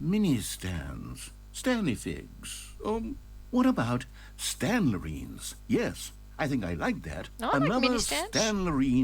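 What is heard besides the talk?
No everyday noise stands out behind the speech.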